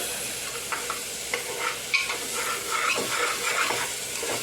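Lentils sizzle and crackle in a hot pan, with occasional scraping and stirring clicks over a steady frying hiss.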